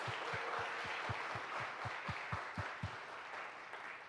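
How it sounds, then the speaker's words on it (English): Audience applause at a martial arts forum, a broad, fairly distant wash of clapping held for about four seconds, with a steady run of low, regular thumps beneath it. "please give another big round of applause"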